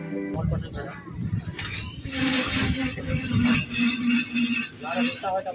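A passenger train from Sealdah to Rampurhat rolls into Khana junction, wheels rumbling and squealing in a loud continuous clatter heard from on board, with a person speaking over the noise.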